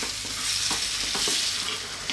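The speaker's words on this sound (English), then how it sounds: "Give it a stir every now and then." Beef curry with tomatoes cooks in a pan just below medium heat, a close, dense sizzle with quick spoon scrapes and stirring knocks over a couple of seconds, no speech.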